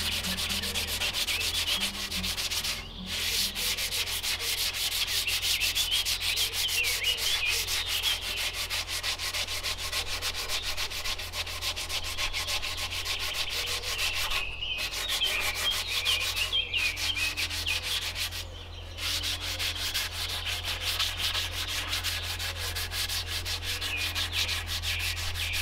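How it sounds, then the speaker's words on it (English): Sandpaper rubbing along a wooden sapling selfbow in the Holmegaard style, a steady close scratching with rhythmic strokes that runs almost without pause, broken only by a few short gaps, while birds sing faintly in the background. "So we're just taking some sandpaper here."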